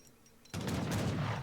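Cannon fire from an Age of Empires III match breaks out suddenly after a quiet moment, a dense burst of overlapping booms and crackling shots continuing loudly to the end.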